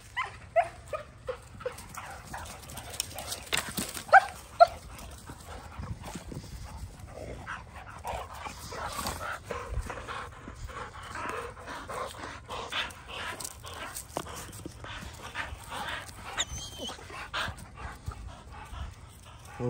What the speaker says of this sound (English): Yeah, we got the puppies out today, man.